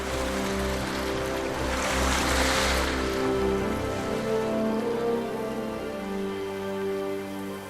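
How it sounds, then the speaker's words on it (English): A steady wash of water noise, drifting river ice grinding and swirling along the current at the start of spring, continuous and fairly even throughout. "the strange sound of drifting river ice signals the start of"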